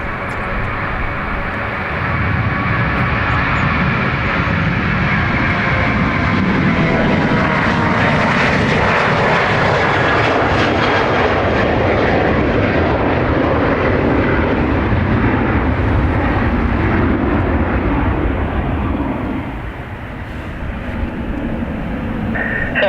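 A jet aircraft taxis at Dublin Airport on a murky day, a loud sustained engine roar that swells and shifts in pitch as it moves past, then eases slightly near the end.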